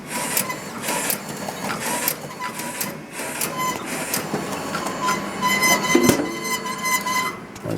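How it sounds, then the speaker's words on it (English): A Duplo DC 645 heavy-duty paper slitter cutter creaser runs continuously, its dense mechanical rattle and clatter steady and fairly loud throughout, with a brief sharper clunk near the end and no talking. "So you can see it's all slitting."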